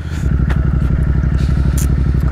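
Motorcycle cruising on the Kargil to Leh highway, its engine thrumming in a steady low pulsing rhythm close by, with wind rushing past; no talking.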